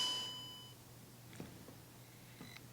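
A DJI OM4 smartphone gimbal powers on with a short bright electronic chime at the very start. A couple of faint clicks and soft beeps follow over a quiet room background.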